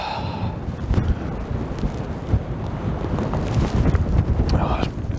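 Strong wind buffets the microphone on a sub-zero winter hillside in the Yorkshire Dales, a steady loud roaring rumble with gusty swells throughout and no clear voice.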